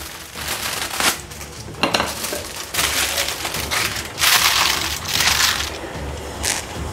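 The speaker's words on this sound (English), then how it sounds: "Put some aluminium foil on top." Aluminium foil crinkles and crushes as it is pressed over short ribs before braising in the oven, a run of close, papery rustles and crackles with a few sharper clinks from the pan.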